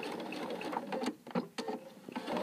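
Sewing machine running close up as binding is stitched around a quilt with a quarter-inch seam, a steady mechanical whirr broken by brief pauses and restarts.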